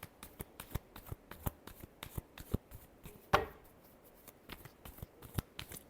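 Tarot cards shuffled by hand, a run of quick crisp riffles and taps with one louder flurry midway, close and fairly quiet, with no talking.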